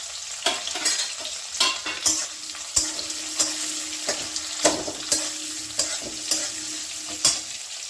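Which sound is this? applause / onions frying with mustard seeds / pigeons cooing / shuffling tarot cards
onions frying with mustard seeds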